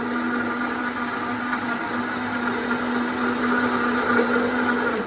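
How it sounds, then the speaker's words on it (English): Kitchen blender running continuously while blending a smoothie, a loud, steady motor whine with a constant hum and slight churning as the contents swirl, no talking over it. "Sometimes your blender will start to suck air down and you'll get an air pocket in the middle."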